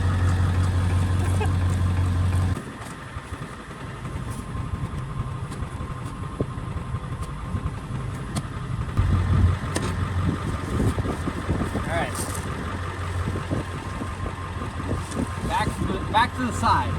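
Pickup truck engine idling low at around 750 to 800 RPM, a steady deep hum heard after a brief louder stretch, with people talking over it.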